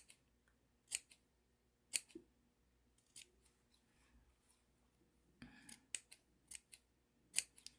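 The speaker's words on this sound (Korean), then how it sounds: "쭉 이렇게 가위밥을 주시면 됩니다" Sewing scissors make sharp, close, distinct snips while notching a fabric seam allowance for a dress collar. About a dozen irregularly spaced cuts come in quiet surroundings, a few in quick clusters.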